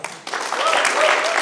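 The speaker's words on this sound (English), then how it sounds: "Let's give a round of applause for you as well." A theater audience breaks into loud, steady applause after a short quiet lead-in, the clapping close and continuing to the end.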